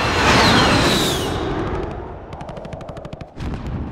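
Loud, close automatic gunfire in a modern military shooter, a dense roar of bursts that fades into a rapid rattle of individual shots, then a final heavy blast.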